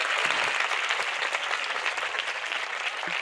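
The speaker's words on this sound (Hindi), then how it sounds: "जोरदार तालियां बजाओ यीशु मसीह के लिए।" Congregation at a Sunday church meeting bursts into sustained applause, a continuous wash of many hands clapping at moderate volume with no voices on top.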